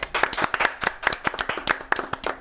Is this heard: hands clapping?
yes